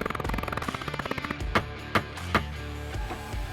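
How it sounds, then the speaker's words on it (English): Rapid, close metal taps in a quick run, then three heavier, evenly spaced blows ring out as a knockdown tool hammers a creased Ford Puma body panel edge back level. "I'm just basically hammering this edge until it goes back level again."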